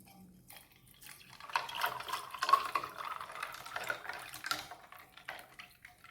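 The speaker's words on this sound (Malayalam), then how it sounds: "ജ്യൂസ് ഒഴിച്ചു കൊടുക്കാം." Beetroot juice is poured into a glass over ice cubes, a soft close liquid splash rising and thinning over a few seconds, with faint clinks.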